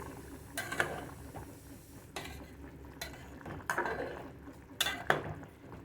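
Stuffed bitter gourds being turned over in a covered pan, giving a handful of spaced scraping, clinking stirs with faint bubbling underneath, close by and moderately loud.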